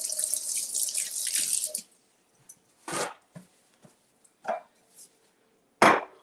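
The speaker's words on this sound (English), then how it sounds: "I'll wash my hands." Water runs steadily from a faucet into a sink during handwashing, then stops, followed by a few scattered clinks and taps of hands and items at the sink in a quiet kitchen.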